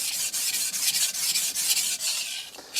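Coarse strokes of a German steel cook's knife across a Shapton Kuromaku 320 whetstone, a steady scraping rasp in about eight quick rhythmic passes, close and fairly loud with no voices.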